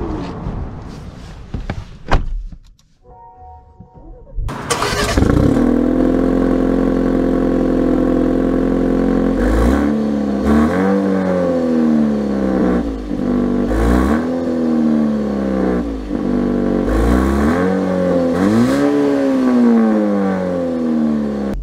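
A 2023 Maserati Grecale GT engine fires up after a quiet moment, then rises loudly and steadily through repeated accelerating sweeps as it shifts through the gears, close and without talk.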